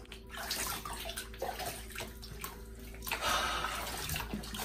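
Bath water splashes and sloshes continuously as a cat is washed in a tub, a close, busy wash of water movement with a running tap underneath and no talking.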